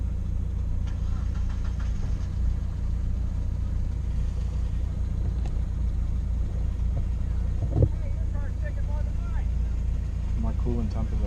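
A race car engine idles steadily with a low, rumbling drone that fills the whole stretch, while people talk quietly over it.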